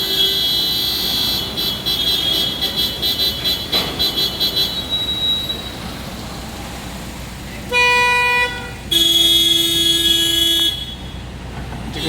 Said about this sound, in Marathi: तिकडे हॉर्न वाजवला जात आहे